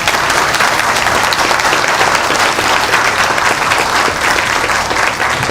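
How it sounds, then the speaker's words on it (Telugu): Audience applause at a Telugu religious discourse on the Kasi Khanda, a loud, steady burst of many hands clapping that runs unbroken throughout with no voices. "ఇంతకీ ఎందుకు చప్పట్లు కొట్టారు?"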